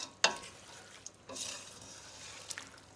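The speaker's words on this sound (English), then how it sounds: "and then give it a mix." A vegetable cook-up seasoned with black pepper and salt is stirred in the pot, with a few scraping clicks and a soft wet sizzle underneath.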